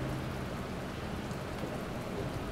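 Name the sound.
rain falling on an empty street at night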